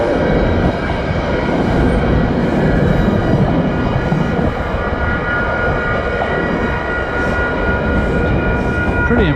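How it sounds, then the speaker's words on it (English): A long Metro-North train rolls past at Dover Plains on a Sunday, a loud, close, continuous roar of wheels and rail noise that holds steady for the whole stretch. "Metro North train. Pretty long train too for a Sunday."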